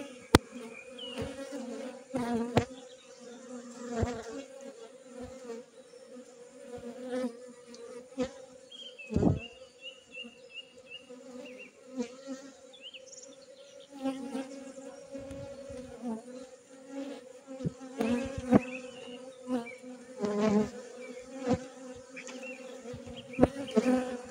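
Honeybees at an open beehive during a frame change hum in a steady, close drone, with scattered clicks and knocks from handling the hive.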